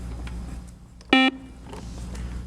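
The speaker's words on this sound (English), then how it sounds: "that buzzer is the end of our first toss-up round" A quiz show buzzer ends a toss-up round with a single short, harsh electronic tone lasting about a fifth of a second over quiet room noise. Nobody speaks.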